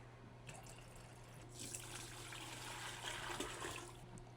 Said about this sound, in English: Now I gotta add a little water.